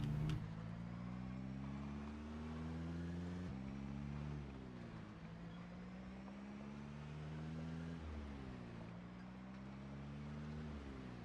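A car driving in Project Zomboid hums with a steady engine drone, its pitch stepping up and dropping back several times as it shifts through gears, continuous and fairly even in loudness throughout.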